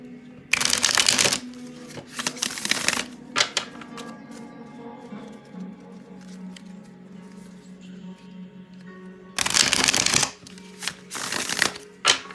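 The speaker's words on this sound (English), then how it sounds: "So I'm just gonna shuffle this really quick." Two loud riffling bursts of tarot cards being shuffled, near the start and again near the end, with quieter handling and a low hum between.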